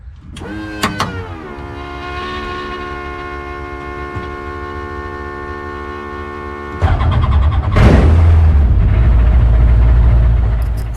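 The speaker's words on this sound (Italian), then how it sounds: "Ed ecco che abbiamo messo in moto il nostro Rotax 915" A Rotax 915 engine on a Groppo G70 light aircraft starts up: a few clicks, a whining electric starter for several seconds, then the engine catches into a loud, close, steady roar.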